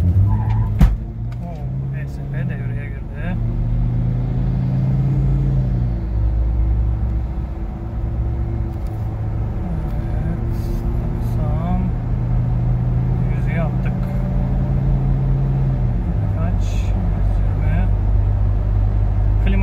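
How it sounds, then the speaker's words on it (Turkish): A stock SsangYong Kyron with the air conditioning on and ESP active accelerates at full throttle from a standstill. The engine drones loud and close, its pitch climbing through each gear before dropping at the shifts. "Dip gaz yapıyorum."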